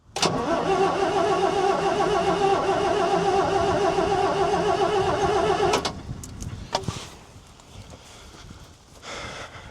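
An old Volvo F10 truck that sat unused for 25 years cranks and roars loudly and steadily for several seconds, then abruptly dies away to quieter clunks and faint background noise.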